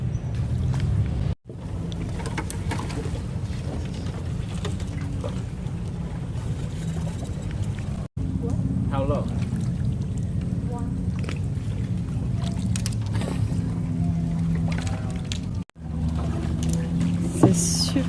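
A small paddled boat glides among trees and roots on Tonlé Sap lake, with a steady wash of water and soft sloshing close by, broken by a few brief gaps, while people talk.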